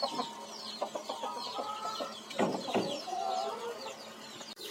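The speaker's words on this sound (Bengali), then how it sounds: "এখানে আমার টাইগার মুরগি থাকে।" Morning feeding time for hens in a backyard coop, fed paddy grain: several chickens cluck and murmur close by in a busy, overlapping chorus, with no talking.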